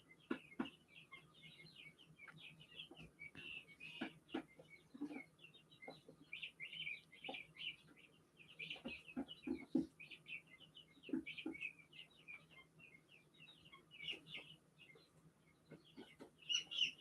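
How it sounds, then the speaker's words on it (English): Bird calls, chirping and squawking repeatedly at a moderate distance, with rapid irregular bursts and short pauses throughout, heard alone with no talking. "Oh my goodness. Loud. Squawk, squawk, squawk."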